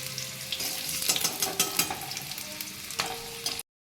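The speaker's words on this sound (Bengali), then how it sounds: "আমার আলুগুলো একদম সুন্দর করে লাল করে ভাজা হয়ে গেছে" Potato pieces fry in hot oil in a pan, giving a continuous close sizzle with crackling bursts and occasional stirring scrapes before cutting off abruptly.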